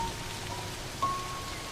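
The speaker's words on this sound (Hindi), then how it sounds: "इस तरह अचानक मूसलाधार बारिश होना अजीब है" A sudden heavy downpour falls in the Serengeti during the rainy season, a dense, steady hiss of rain on the ground that stays even and fairly loud throughout, with no voices.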